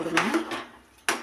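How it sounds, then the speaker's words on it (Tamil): Coconut paste being stirred into curry in a pan: a few brief metal clinks and scrapes of a spoon against the pan, with a faint voice in the background. "நல்லா கலந்து கொடுங்க."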